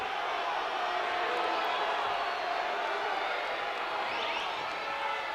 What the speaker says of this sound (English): crowd really wants a stall call here